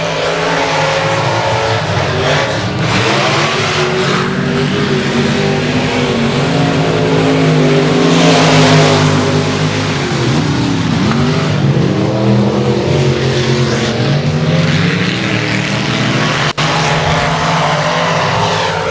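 Limited modified race cars racing on a dirt speedway, engines roaring loudly and continuously as the pack sweeps through the turns, with revving pitch swells and no pauses.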